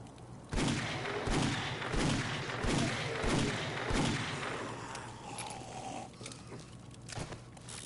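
Rapid bursts of gunfire from a Game and Granny special gun in a video game, a loud close volley of repeated shots that thins out into scattered reports.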